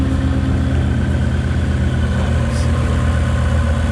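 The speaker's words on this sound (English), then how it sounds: "Wow, this thing really got some exhaust, straight pipe." A Ford Mustang 5.0 fitted with a Whipple supercharger and straight-pipe exhaust idles steadily up close, with a deep, loud, continuous rumble and a low throbbing pulse throughout.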